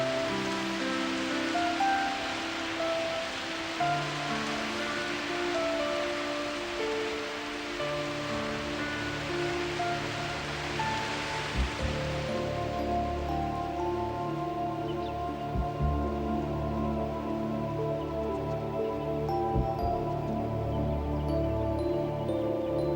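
Rushing river rapids and tiered waterfalls in Tasmanian rainforest along the Gordon and Franklin rivers make a continuous broadband wash of water, steady and moderately loud, with soft tonal music running beneath.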